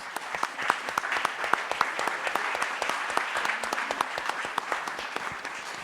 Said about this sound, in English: we would like to give a warm round of applause to the Goethe-Institut